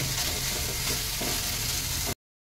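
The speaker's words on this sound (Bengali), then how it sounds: "এবার বেশ ভালো করে আমি এটাকে ভেজে নেবো" Mashed rui fish frying in a pan with steady, close sizzling and crackle, stirred at times, before cutting to a short silence near the end.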